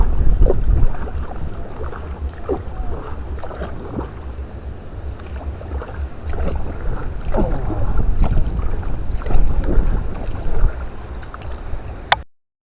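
Gusty wind blows across the sea around a small fishing boat as a storm comes in. Continuous buffeting wind noise roars close to the microphone, with faint splashes and creaks and no talking.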